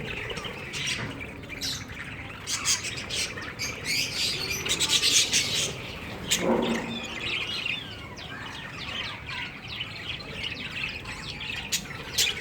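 Parrot chicks in a breeding setup after the rainy season call out with repeated raspy squawks and high chirps, close and fairly loud, in uneven overlapping bursts with no talking.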